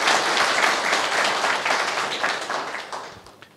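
Live audience at a motivational speech clapping together, a dense, steady burst of applause that gradually tapers off toward the end, with no talking over it.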